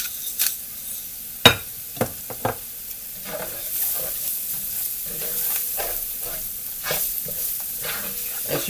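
Flour browns in a pan for brown gravy, with a soft continuous sizzle broken by sharp clinks and scrapes of a utensil stirring against the pan, close and alone without talk.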